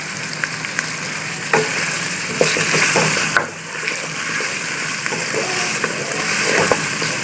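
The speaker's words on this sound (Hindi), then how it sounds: "अब इसको अच्छी तरह भूनना है" Chicken for nihari browning in a pan with a little salt, a steady close sizzle broken by occasional stirring scrapes, no voices.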